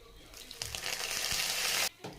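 Raw peanuts and curry leaves frying in hot oil for Tamil mint rice, a steady close sizzle with stirring scrapes, cutting off briefly near the end.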